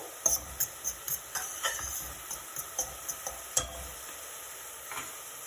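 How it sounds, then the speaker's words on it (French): Onions cooking in a covered pot for a meatball tajine, a faint, soft sizzle with a series of quiet, regular tapping and stirring clicks. "Je ferme et je laisse cuire un petit peu l'oignon."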